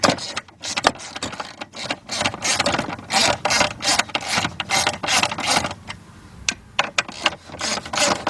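A ratchet loosening the brake booster on a 1999 Porsche Boxster, quick repeated metallic clicking strokes in uneven bursts with short pauses, close and fairly loud.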